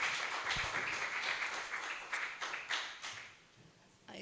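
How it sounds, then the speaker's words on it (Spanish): Audience applause at a 25th-anniversary ceremony forum, a moderate patter of clapping that thins and fades toward the end, with a brief burst at the close. "Le damos un aplauso."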